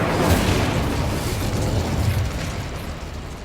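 The Incendio fire spell cast in Hogwarts Legacy, a brief dense whooshing burst of flame that roars and fades over a few seconds.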